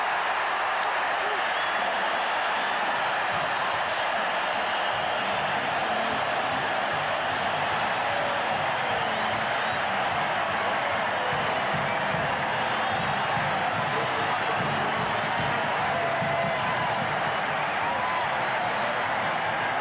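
Capacity stadium crowd roaring continuously after a Raiders touchdown in the 1983 NFL playoff against the Steelers, a broad sustained wash of cheering and noise with no clear individual voices.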